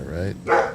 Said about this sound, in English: That's my dog.